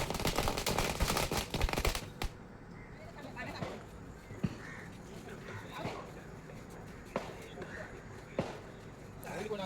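A string of firecrackers bursts at a Tulsi Vivah wedding celebration, starting with a dense, loud crackling run and then thinning into scattered sharp pops over crowd noise and voices.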